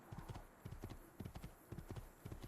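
Horse hooves galloping in Assassin's Creed 2: quick, steady clip-clop beats in repeating triplet-like groups, close and clear over a faint background.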